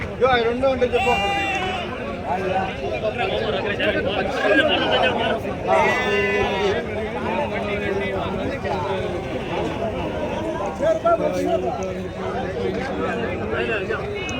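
Sheep bleating amid the bustle of a Saturday sheep market at Angallu, several loud, wavering calls rising over constant crowd chatter and background noise.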